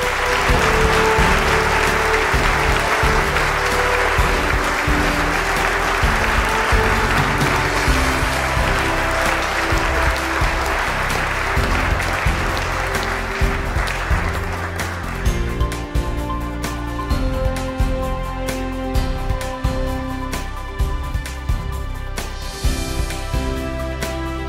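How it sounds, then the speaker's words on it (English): An awards-event audience applauds in a sustained, dense burst of clapping that carries on for over twenty seconds, loud and close, with music joining underneath partway through. "Please applaud Tobias Frugé."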